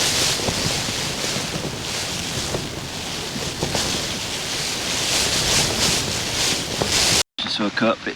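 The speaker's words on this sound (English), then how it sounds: "just listen to the wind and the rain" Wind gusting hard with steady rain lashing a tent at a wet winter wild camp on Dartmoor near Lints Tor, a continuous loud roar and patter that cuts off abruptly near the end.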